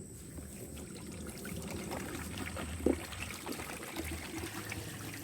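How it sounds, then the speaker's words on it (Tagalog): Water poured from a one-liter container into a garden watering can, a steady trickling splash running for several seconds with a brief louder slosh partway through, close by and alone. "Ngayon, dahil yan ay may tubig, ilalagay ko rito sa pandilig namin."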